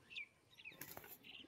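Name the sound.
pigeon flapping its wings while being caught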